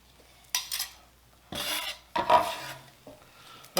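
Chopped vegetables for red beans and rice are scraped off a board into a pot, three or four short, close raspy scrapes separated by brief pauses.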